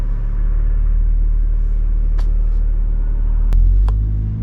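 An Audi S3 8V accelerates in a deep, steady engine rumble heard from inside the car, loud and continuous, with a brief shift or surge near the end.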